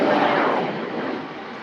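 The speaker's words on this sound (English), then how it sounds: "That's a Cessna Citation 3, operated by Jetstream" A Cessna Citation III private jet at Lisbon Airport makes a brief, fairly close engine whoosh that fades slightly as it passes.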